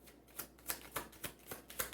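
Tarot cards being shuffled by hand, a quick series of crisp riffling snaps in a steady rhythm, close and moderately loud, with no talking.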